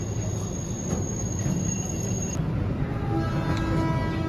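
The Airlangga economy passenger train runs between Jakarta and Bekasi with a steady low rumble of wheels on rails, a faint high squeal and brief tonal whines, heard from inside a carriage.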